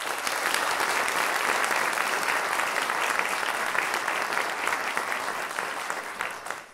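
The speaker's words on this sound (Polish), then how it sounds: "Wielkie brawa!" Audience applause at a school Christmas charity concert, a dense, steady wash of clapping from a full hall that holds for several seconds and fades slightly at the end, with no voices over it.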